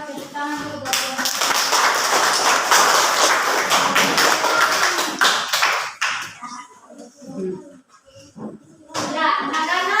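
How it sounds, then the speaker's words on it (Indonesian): Students in a classroom applaud a group, a dense, loud burst of hand claps lasting several seconds before thinning into a few scattered taps, with children's and a teacher's voices coming in as it fades. "Tepuk tangan dulu buat kelompok."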